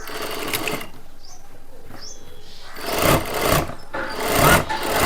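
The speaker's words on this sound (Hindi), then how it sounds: "अब यहाँ पर हम एक पैर की सिलाई लगाएंगे।" A sewing machine stitches a kurta at home in quick whirring bursts, starting brief and faint, then growing louder in several runs toward the end.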